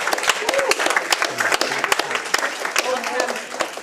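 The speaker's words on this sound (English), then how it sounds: "let's get a round of applause for the chefs out here that did a wonderful job, Casey and all of them." Applause at a high school pre-game gathering, with scattered, uneven claps from a small crowd that sound close and choppy while people talk underneath.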